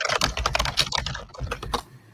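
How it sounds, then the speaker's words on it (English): Rapid typing on a computer keyboard during a podcast recording, a close, busy patter of key clicks with no talking over it. "Somebody's typing away"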